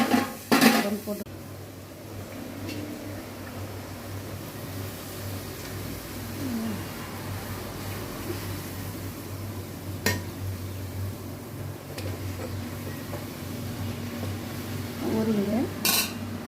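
Ingredients being sautéed in a pan, heard as sparse metal clinks and scrapes of a utensil against cookware over a low steady kitchen hum, with a sharper knock at the start and again near the end.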